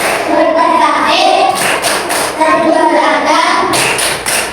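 Fourth-grade pupils in a classroom chant together in rhythm and clap, with sharp group claps and thuds punctuating their loud, close voices.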